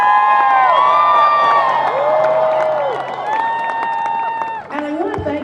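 A large crowd of about 5,000 at an outdoor air pollution rally cheers and applauds loudly and continuously, with whoops and shouts rising over steady clapping before the noise briefly dips near the end.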